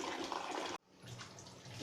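Water being poured off soaked, sprouting mung beans, a steady close splashing that cuts out abruptly partway through, then resumes as a softer trickle and slosh.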